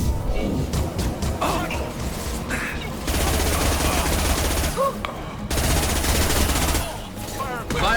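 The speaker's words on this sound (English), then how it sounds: "Firing a high impact shot" Sustained firefight gunfire in Mass Effect 2, dense rapid bursts of automatic weapons with sharp reports and brief pauses, loud and close, with occasional voice chatter mixed in.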